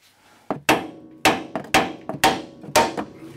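Six sharp metallic hammer blows on a Toyota steering knuckle to free a ball joint, close and loud, struck in a steady rhythm with ringing decay after each.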